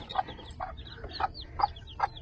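Chickens with their chicks, including a bantam hen, clucking in a backyard: a handful of short, close clucks and chirps in a loose rhythm, with no voices.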